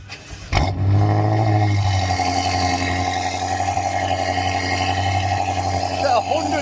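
A grey BMW M6 exhaust at a car show roars into a loud, sustained rev after a sharp start, holding a close, droning engine note while people talk around it.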